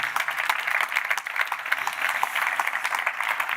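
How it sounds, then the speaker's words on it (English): Sustained audience applause at a European Space Agency astronaut announcement, an even, continuous patter of many hands across a large room, steady and moderately loud throughout. "I think that deserves a round of applause."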